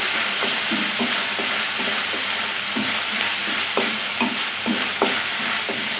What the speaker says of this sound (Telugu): ఇలా ఉల్లిపాయలు పచ్చిమిర్చి వేసుకొని బాగా ఫ్రై చేసుకోవాలి.